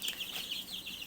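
Chicks about two and a half weeks old peep and cluck in a clean brooder, a close, continuous chorus of high chirps over a quiet background.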